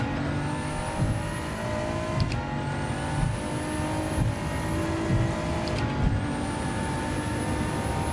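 A Group 4 race car engine in Gran Turismo 7 drones steadily at high revs throughout, a continuous loud in-game engine tone with brief shifts in pitch and no talking.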